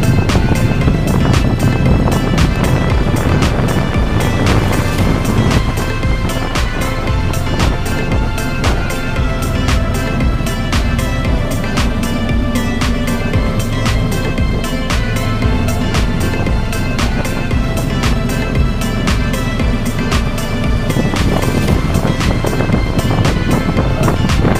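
A ship turns and moves off from Puerto Galera port, with a loud, continuous engine rumble mixed with heavy wind buffeting the microphone and no speech.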